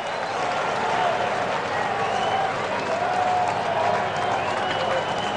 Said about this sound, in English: Even the Angel fans have to applaud his magic